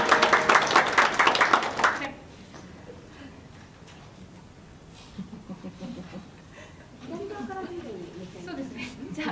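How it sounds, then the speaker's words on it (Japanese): An audience at the opening ceremony of a theatre company's 30th anniversary festival breaks into loud, dense applause for about two seconds. The clapping then gives way to speech and low crowd murmur. "どうぞ盛大な拍手をお願いいたします。"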